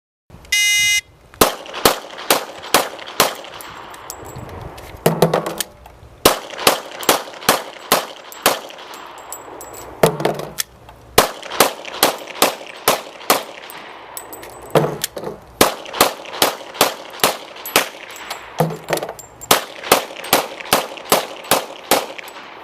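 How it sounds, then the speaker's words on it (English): Gunshots ring out in rapid strings as a shooter empties five six-round magazines at a sheriff's range demo, loud sharp cracks in bursts separated by short reload pauses, no talking. "going to demonstrate shooting 5 6-round magazines"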